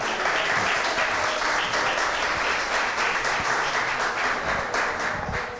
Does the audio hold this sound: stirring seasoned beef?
no